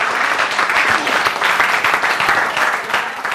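An audience at a Republic Day mushaira poetry recital gives sustained, dense applause, with many hands clapping loudly and evenly from start to finish.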